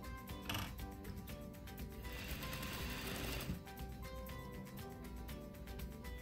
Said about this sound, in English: we are just going to stitch it